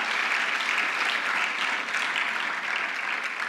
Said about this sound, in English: I think we need a clap for that.